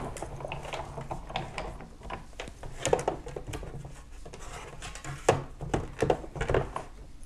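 Metal blank rolled through a small embossing machine for a Hawaii Life necklace, a close run of irregular clicks, ratcheting and mechanical rattles with a few sharper knocks, no talking.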